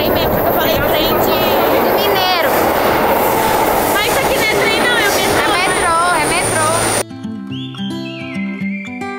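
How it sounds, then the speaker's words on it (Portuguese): Subway train arriving at a metro station in São Paulo, a loud sustained rumble with screeching brake squeals and rail noise over crowd chatter, then cutting abruptly to music. "mostra o trem chegando e é trem mesmo"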